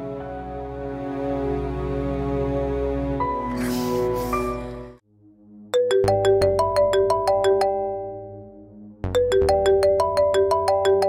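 A phone ringtone plays unanswered as a loud, repeating melodic tune, with a brief pause before the phrase starts again, alone without talk.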